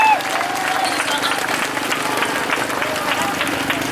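A crowd at a street demonstration applauds: a dense, steady wash of many clapping hands, fairly loud and continuous, with faint voices mixed in.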